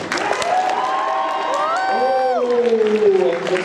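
A convention audience at an improv comedy show cheers and whoops for Chris, loud shouts and sliding vocal cheers layered over clapping, energetic and close throughout.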